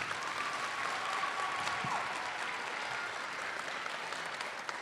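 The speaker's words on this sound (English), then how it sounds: "Let's give another round of applause for Jordan." An audience applauds a student pianist at a school winter concert, a steady, distant-sounding wash of clapping that holds evenly throughout.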